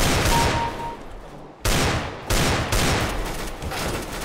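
Gunfire in the video game Counter-Strike: GO: loud, dense bursts of shots and rattling volleys, with a brief drop in the middle before sharp new blasts resume.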